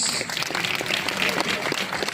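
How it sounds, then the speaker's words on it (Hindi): A brief burst of steady crowd clapping at an awards event where top policy sellers are named, with voices mixed into the applause. "तालियां प्लीज।"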